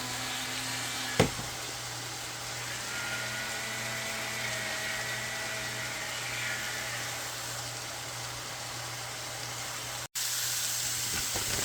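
Shredded cabbage and sausage frying in a pan while being stirred: a soft, continuous sizzle with a single sharp knock near the start.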